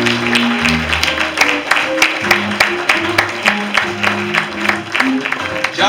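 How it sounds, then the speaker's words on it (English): Congregation clapping at a church thanksgiving service, sharp rhythmic claps keeping time over organ-like music and singing, steady and close throughout. "Come on, clap on, clap until they come."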